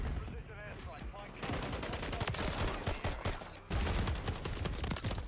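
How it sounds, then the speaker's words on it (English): Rapid gunfire from a weapon in Call of Duty: Modern Warfare III, a dense run of loud shots with a short break before a second burst, over game noise. "They need to increase the fire rate on this gun."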